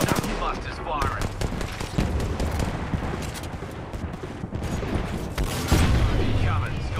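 Rapid automatic gunfire and scattered shots in a chaotic Apex Legends firefight, loud bursts throughout under game effects.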